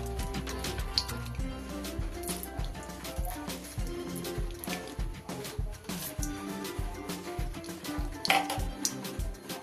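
Two spoons of ghee go into leftover hot oil in a pan while cooking potol rezala, giving soft sizzling and frying crackle with clinks and scrapes of a utensil against the pan, close and fairly quiet.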